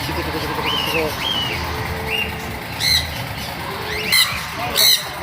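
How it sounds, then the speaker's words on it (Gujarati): Several short, harsh squawks from an African grey parrot, scattered and growing sharper toward the end, over a busy background murmur at a nature park in Surat. "African green parrot"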